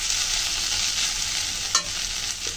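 Potatoes and onions with spices and a splash of water being stirred in a pan, a steady close scraping and bubbling sizzle with one sharper clink of the spoon near the end, no talking.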